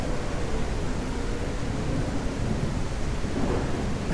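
Thunderstorm in a supermarket-building video game, heavy steady rain with a low rumbling roar of thunder, dense and continuous with no speech.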